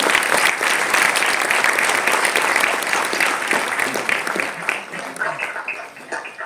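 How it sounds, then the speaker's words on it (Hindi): Loud, dense applause from the audience welcoming new NCDC branches at an inauguration ceremony, steady at first and then thinning and tapering off toward the end. "सभी से अनुरोध है तालियां बजा करके इन सभी शाखाओं का प्रोत्साहन करें।"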